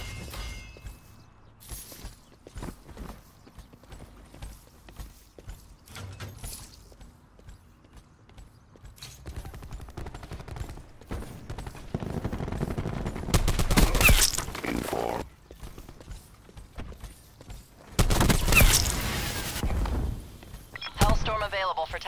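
Gunfire strikes a target in a video game, and sustained loud bursts of shooting and impacts rise in two heavy stretches after quieter clicks and mechanical rattles, with a voice speaking over parts of it.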